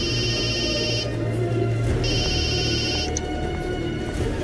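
A telephone rings twice in a TV drama scene, each ring a bright electronic trill of about a second with a one-second pause between, over a steady low background hum.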